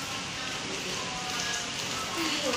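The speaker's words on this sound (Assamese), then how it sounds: "আজি মানে আজিও সেই বৰষুণেই দি আছে" Rain falling steadily, a soft even hiss of drops on surfaces, fairly faint and continuous.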